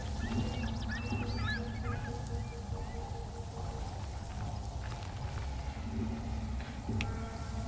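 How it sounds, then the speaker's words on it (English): Ducks in Soulframe give a few quick quacking calls early on, then fade under a steady ambient game soundscape with scattered small sounds and no talk. "That's probably the ducks I released earlier."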